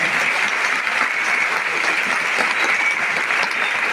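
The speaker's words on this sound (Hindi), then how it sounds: "अपने सभी अपलाइंस के लिए जोरदार तालियां बजाएं।" Loud, dense applause from a large crowd at a business event, honoring uplines with continuous vigorous clapping throughout.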